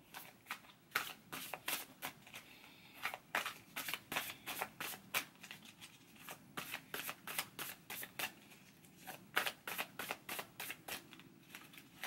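Astrology flashcards shuffled by hand, a quick rhythmic run of close, soft riffling snaps repeating steadily in a quiet room with no talk.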